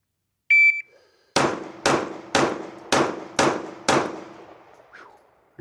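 Rapid string of six loud, sharp Glock 19 pistol shots at an outdoor shooting range, evenly spaced about half a second apart, each followed by a brief decaying echo, preceded by a short electronic timer beep.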